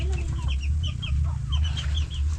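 Rooster kept in a cage, giving a series of short, close clucks over a steady low background hum.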